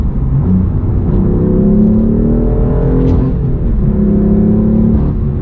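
A BMW M4 fitted with an AFE Mach Force-XP exhaust drones loudly from inside the cabin, a deep steady rumble that swells and eases as the engine revs rise and fall.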